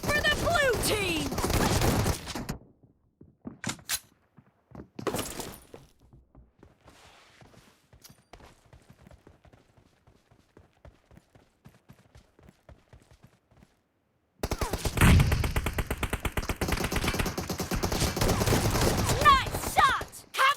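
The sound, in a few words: shotgun fire in a video game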